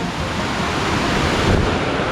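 A waterfall at Ton Phrae Thong on a jungle camping trip pours down in several streams, giving a steady, loud broadband rush of falling water that stays even for the whole stretch, with no voices over it.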